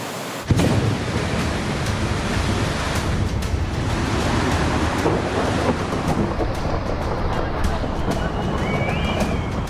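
Powerful, continuous roar of a flooded river in Uttarakhand after heavy rain, a dense broadband rumble that stays loud and unbroken throughout.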